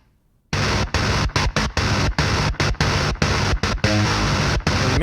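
Heavily distorted metal guitar from the Appex library's Raging Distortion preset chugs in loud, dense palm-muted bursts with short rhythmic gaps between hits, alone and close.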